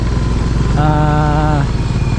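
An old motorcycle engine runs steadily, with a brief rising tonal whine in the middle over a constant rough mechanical drone.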